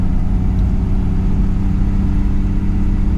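A Pontiac 427 V8 running on a drive, a loud steady low engine rumble with a constant throaty drone and no talking.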